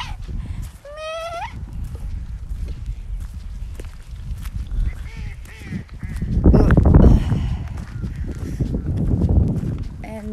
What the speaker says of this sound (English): And those are ducks.